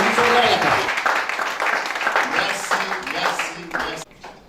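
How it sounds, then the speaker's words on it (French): Applause for colleagues seated at a table during a national bilingualism week event, loud continuous clapping from a room of people with some voices mixed in, fading abruptly near the end. "Est-ce qu'on peut applaudir pour nos œuvres,"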